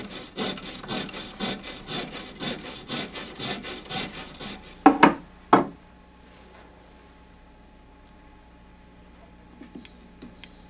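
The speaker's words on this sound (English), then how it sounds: "Making perfectly parallel cuts in a ring shank can be difficult." Back-and-forth saw strokes cutting through a metal ring shank held in a saw guide, a steady rasping rhythm of about a dozen close strokes, then a few sharper final scrapes and near silence with faint ticks.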